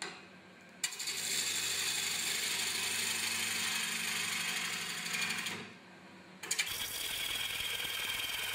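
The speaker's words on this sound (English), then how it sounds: "But first I'll start by sharpening the tool, so I can cut the wood with ease." A woodturning tool is sharpened on a grinder, a steady whirring hum and grind that cuts out briefly, then starts again with a clatter.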